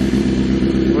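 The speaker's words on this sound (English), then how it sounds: "Rev the shit out of that." A Mercedes-AMG C63 S engine holds a loud, steady, low-pitched drone close by, with no clear rise or fall during the brief moment.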